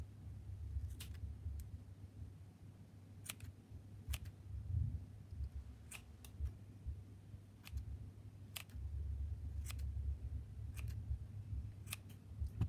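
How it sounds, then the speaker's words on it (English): Scissors snip fabric strips for a shaggy rug, producing sharp, isolated clicks spaced irregularly over a faint steady room hum, with no talking. "Now all you need to do is take your scissors"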